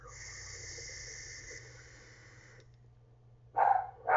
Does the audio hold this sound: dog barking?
yes